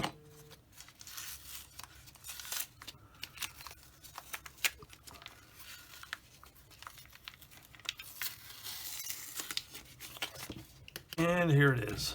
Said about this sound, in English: Now it's time to start peeling off tape.